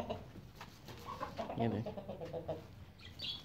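Golden Misri hens cluck and chirp in a farm pen, a soft, busy run of bird calls close by, with a person speaking briefly over them.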